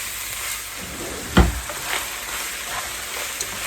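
Ground beef with vegetables sautéing in a pan for a gluten-free Philly cheesesteak casserole, a steady close sizzle with a single loud scrape or knock of the utensil partway through and a few softer stirs.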